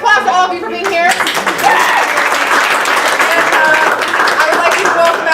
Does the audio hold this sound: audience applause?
yes